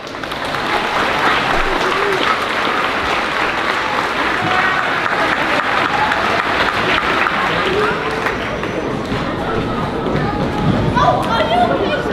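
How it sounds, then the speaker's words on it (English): Sustained applause from an audience at a 5th grade moving-up ceremony, dense clapping filling the room at steady loudness with some crowd chatter mixed in. "give them another round of applause."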